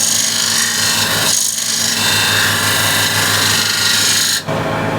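A woodturning tool cuts a groove into a spinning wooden bowl on a lathe, giving a continuous close rasping scrape with a short break in the middle and a small dip near the end.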